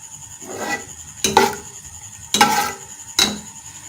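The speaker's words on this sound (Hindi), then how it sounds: "अब हम प्याज को ब्राउन कर रहे हैं, तकरीबन लाइट ब्राउन कर रहे हैं।" Chopped onion browning in oil in a pan, a steady low sizzle broken by four sharp scraping strokes of a spatula against the pan, close and clear with no talking.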